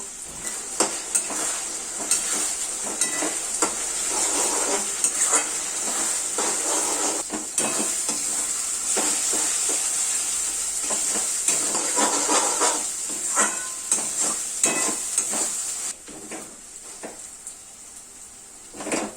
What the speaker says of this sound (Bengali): এখন আমি আদা রসুন পেঁয়াজ আর কাঁচা লঙ্কার যে পেস্টটা বানিয়েছিলাম এটা দিয়েও ভালোভাবে ভেজে নেব